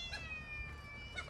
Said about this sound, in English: There's a kitten stuck in a tree.